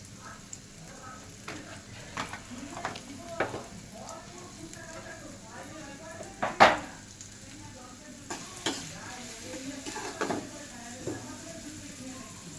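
Chopped onions frying in hot oil, a constant close sizzle broken by scattered clinks of stirring, with people talking now and then.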